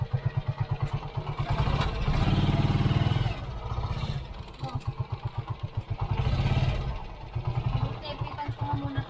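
A motorized tricycle engine runs steadily up close, its rhythmic mid-pitched chugging rising in two louder surges, with people chatting over it throughout.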